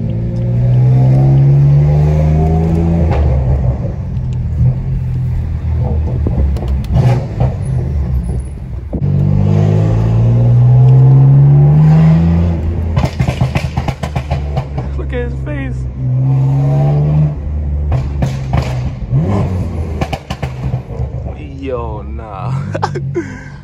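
A tuned BMW M3 engine revs up repeatedly, rising and falling in pitch, loud and close, with people talking over it throughout.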